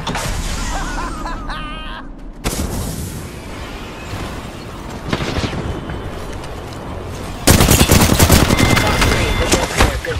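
Rapid gunfire bursts from an Apex Legends match, with dense automatic shooting that swells loud near the end, mixed with game effects and brief background voices.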